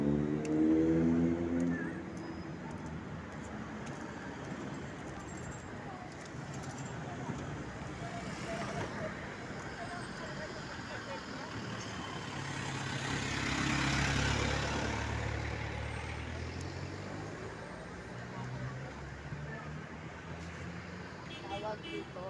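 Vehicles idling and moving at a provincial bus terminal, a low continuous traffic rumble with an engine swelling past midway, heard at a distance beneath a speaking voice.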